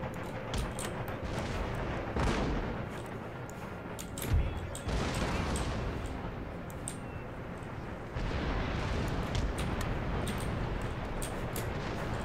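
Cannon and musket volleys roar through a battle in Empire Total War, a dense continuous wash of distant gunfire and booms with a sharper blast midway, no voices over it.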